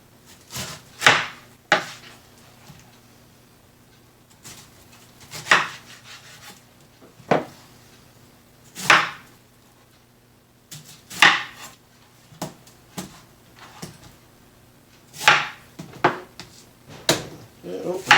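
A knife chops fresh pineapple into pieces on a wooden board, giving loud, close thunks in irregular bursts with short pauses between them.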